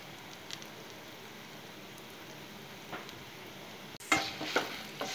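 Fenugreek and asafoetida powder being stirred into a mango and carrot vegetable pickle mixture, a soft steady scraping hiss that turns into louder wet stirring strokes near the end, close up and without talk.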